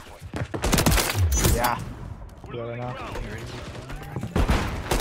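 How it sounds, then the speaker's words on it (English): Rapid bursts of M16 rifle fire in the video game Modern Warfare III, loud and close, with repeated volleys and mechanical clatter, and someone speaking briefly in between. "That M16 is awesome."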